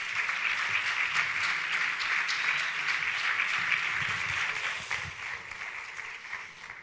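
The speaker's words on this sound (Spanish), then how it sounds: "Un aplaudiment per ells." Audience applause for two speakers at a cybersecurity talk, sustained and steady for several seconds before fading slightly toward the end, with no talking over it.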